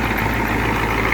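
A 7.3 diesel truck engine idles steadily at close range, a loud, constant low rumble with no pauses and no talking.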